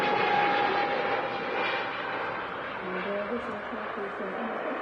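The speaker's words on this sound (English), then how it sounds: "the lunchtime arrival at the Emirates Airbus A380," An Emirates Airbus A380 arriving at Manchester Airport, heard as a continuous distant engine roar and rumble, with a voice talking over it.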